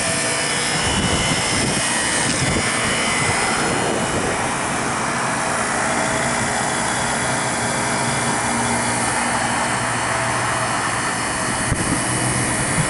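A refrigeration system's condenser fan and compressor run in cold weather, making a steady, loud mechanical drone with a broad whooshing roar that holds constant throughout, with no speech.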